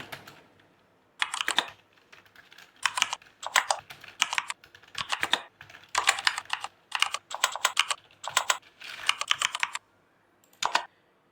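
Fast bursts of clattering keystrokes on a computer keyboard while typing a company or shop name into an Excel invoice, with irregular runs separated by short pauses, close and clear with no talking.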